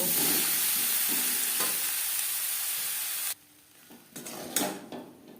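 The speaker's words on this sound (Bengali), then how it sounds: "তিন চার মিনিট আলুর সাথে পটল হালকা করে ভেজে নেব" Potatoes and pointed gourd sizzle and crackle loudly in a pan for about three seconds, then the frying drops away, leaving quiet clinks and stirring scrapes.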